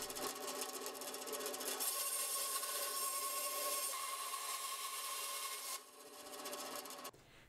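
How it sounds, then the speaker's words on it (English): A steel pin spun in a drill and pressed against a belt sander to shrink it for a knife handle, giving a continuous gritty grinding rasp with a steady motor whine. The pitch and pressure shift partway through before it cuts off near the end. "I will put the pin in my drill and shrink it down a little bit on my belt sander"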